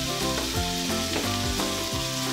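Garlic, ginger, ground almonds and yoghurt sizzle steadily in a pan for lamb korma while being stirred, with a continuous frying hiss under bright, tonal background music.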